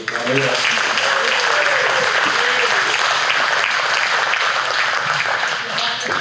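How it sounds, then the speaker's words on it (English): A banquet crowd at a youth mentorship event claps steadily in dense, sustained applause, with voices mixed into the noise throughout. "give it another round of applause"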